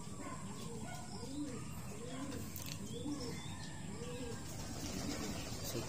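Pigeons cooing in a repeated rhythmic pattern of soft low calls, fairly close, over a constant background hum.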